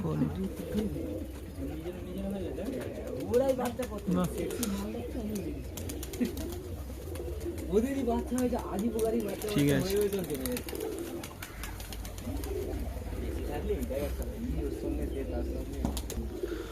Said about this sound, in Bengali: খুব সুন্দর এক জোড়া কবুতর দেখলাম